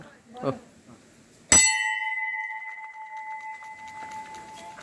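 A ritual hand bell gives one sharp strike and then rings on with a clear sustained tone that slowly fades, following a brief voice just before it.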